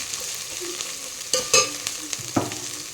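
Chicken pulao ingredients stirred in a pan, with a steady sizzle broken by a few loud scraping strokes of the spoon close by; no talking.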